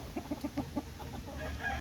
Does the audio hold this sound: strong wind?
no